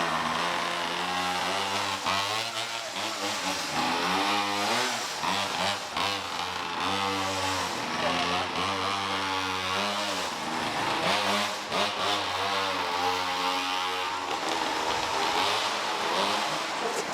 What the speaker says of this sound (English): Rev it, Phil.